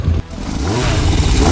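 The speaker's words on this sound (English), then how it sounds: "Exhaust sound of the Yamaha XJ600 Seca II." A Yamaha XJ600 Seca II motorcycle exhaust rumbles loudly and close, revving up with a deep, throaty growl after a brief dip.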